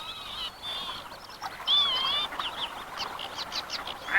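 Lapwings gather to feed on lowland marshes, calling in clear, wavering cries that repeat over a quiet outdoor background, moderately close and with no voices.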